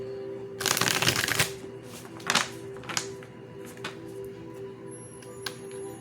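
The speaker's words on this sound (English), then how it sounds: "shuffle up the cards for you" A deck of tarot cards gets shuffled close up, with a loud riffling burst followed by a few quieter flicks and taps against a soft background hum.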